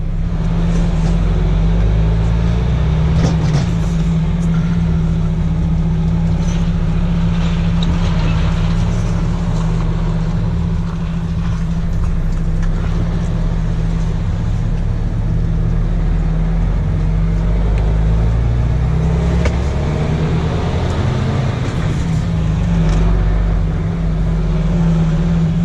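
A car drives along an empty road at night with its headlights on, the steady engine and tyre rumble loud and continuous throughout, rising slightly in places with no talk over it.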